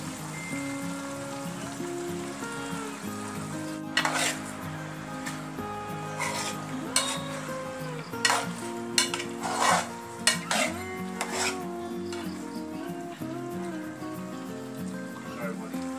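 Beef cooked earlier in a pressure cooker goes into a pan and is stir-fried, giving a soft steady sizzle under scattered spoon scrapes and clinks against the pan, close and moderate.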